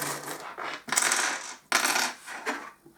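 Small charms are dropped in quick clattering bursts, several jangling metallic spills close up over about three seconds.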